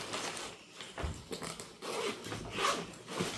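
A zipper on a travel bag compartment is pulled open in short, quick, rasping strokes, close and fairly quiet, with no talking.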